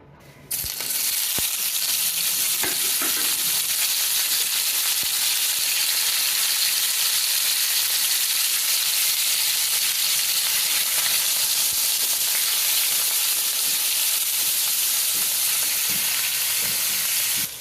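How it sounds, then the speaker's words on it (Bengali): Paneer frying in hot oil in a kadai, a loud, steady hiss and sizzle that starts abruptly and runs without a break, close up, with faint scraping and no voices. "কড়া গরম হয়ে গেল তেল দিচ্ছি পনিরগুলো হালকা ভেজে নেব"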